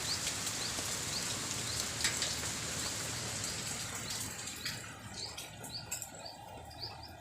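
Steady rain patters continuously, with a few birds chirping faintly in the background.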